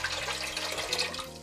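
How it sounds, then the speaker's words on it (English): Filtered water poured into a cooking pot on a kitchen stove, a steady broadband splashing stream that fills the short moment, with low hum underneath. "I'm gonna add some filtered water right now into my pot"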